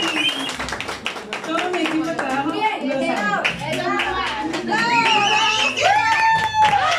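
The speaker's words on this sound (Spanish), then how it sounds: "¡Fuerte el aplauso!" A party crowd at a mariachi birthday celebration claps steadily for several seconds, with children's voices and excited shouts rising over the clapping.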